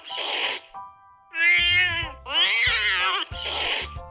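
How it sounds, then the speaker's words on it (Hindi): A wild cat yowls angrily, giving four loud, drawn-out wavering cries with short gaps between them, heard close up with nothing else behind it. "یہ تو کسی جنگلی بلی کی آواز لگتی ہے."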